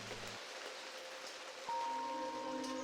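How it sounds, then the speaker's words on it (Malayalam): Rain falls at night at a homestay near Kudremukh National Park, a soft, even patter that continues steadily while a faint tone hums in the background. "ഞങ്ങൾ ഭക്ഷണമൊക്കെ കഴിച്ച് രാത്രി ഉറങ്ങാൻ പോകുമ്പോഴും മഴയുണ്ടായിരുന്നു"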